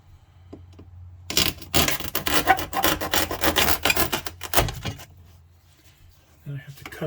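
Plaster cloth on a model railway layout being cut back near a tunnel portal, giving a run of close, dry rasping and scraping strokes for several seconds before falling quiet.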